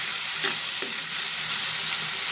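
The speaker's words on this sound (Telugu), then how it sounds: "ఇవి కూడా కొంచెం ఫ్రై అయ్యేదాకా ఉంచుకోండి" Dried shrimp frying with garlic and cumin in a pan, a loud continuous close sizzle with faint stirring scrapes running through it.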